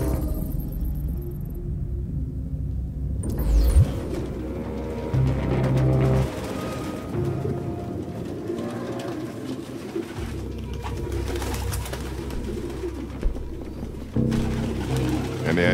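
Pigeons coo repeatedly inside an apartment in the video game Detroit: Become Human, their soft throaty calls looping amid ambient game sound and brief low thumps.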